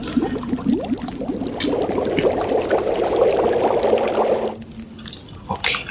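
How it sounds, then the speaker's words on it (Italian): Snow being melted for water in The Long Dark survival game, a steady close liquid pouring and bubbling wash with faint drips that runs for several seconds, then cuts off abruptly near the end. "io mi devo assolutamente sciogliere un po' di neve per farmi dell'acqua"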